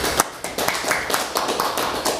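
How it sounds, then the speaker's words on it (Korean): Church congregation applauding together after a closing prayer, a dense sustained clatter of many hands with a few sharper claps standing out, filling the room for a couple of seconds. "우리 하나님께 사랑의 박수 올려드리겠습니다."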